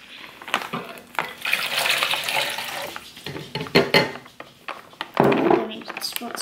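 Water is poured from a cup into plaster mix for a homemade volcano, a steady splashing pour that rises and falls, with people talking over it.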